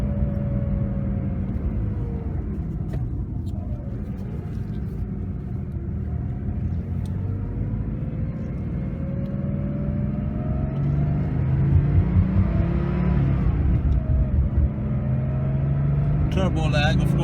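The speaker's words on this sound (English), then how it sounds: "Turbo lag, of course, but wow, when it comes on boost, it does go." A 1986 Porsche 930 Turbo Slantnose flat-six turbocharged engine rumbles from inside the cabin, its pitch climbing slowly as it accelerates and comes on boost, with someone talking over it throughout.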